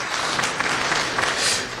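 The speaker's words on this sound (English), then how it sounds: "Please clap for these guys." Dense applause rises from an audience at an Afro-American Diaspora Expo in Washington DC, a steady, loud wash of many hands clapping for just under two seconds with no voices over it.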